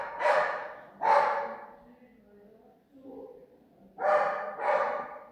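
A household dog barks in loud bursts near a kitchen where carrots are being fried, two sharp barks, a pause with a low grumble, then two more close together.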